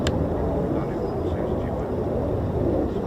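A Boeing KC-135 tanker aircraft passes overhead near RAF Lakenheath, its steady, broad engine roar filling the whole clip at an even, fairly strong level.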